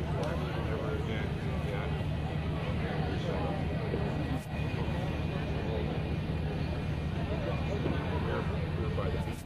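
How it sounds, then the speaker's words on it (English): An F-104 Starfighter jet taxis at the Cold Lake International Airshow, giving a steady, loud, broadband roar that holds almost unbroken throughout, with one brief dip near the middle. "you'll get a unique sound from this jet as it taxis"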